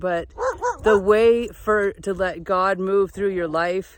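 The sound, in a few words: dog barking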